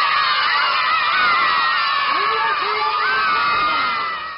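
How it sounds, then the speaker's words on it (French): A huge crowd gathered for a puppet troupe's evening performance cheers and shouts steadily, with children's high voices and whoops rising above the dense, loud roar throughout. "Le spectacle attire une foule immense."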